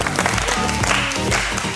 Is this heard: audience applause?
yes